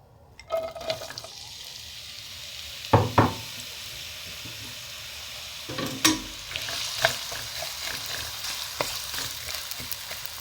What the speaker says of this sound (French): je vais les laisser revenir pour qu'ils soient pas caramélisés mais bien cuits